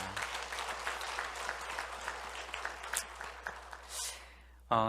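A church congregation gives a round of celebratory applause during a Sunday worship service, a dense patter of clapping from many hands that carries on under a speaking voice.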